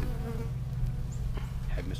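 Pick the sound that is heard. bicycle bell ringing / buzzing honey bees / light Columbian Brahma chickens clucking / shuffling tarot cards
buzzing honey bees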